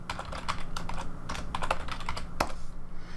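Fingers tap out a short burst of typing on a computer keyboard, with quick irregular clicks and one firmer key press near the end, close and clear with no voices.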